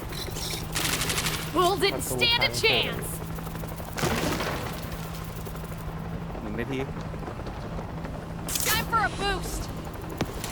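Machine-gun fire in the video game World War Z Aftermath, bursts of rapid gunfire and booms in a busy game mix, with people talking over it.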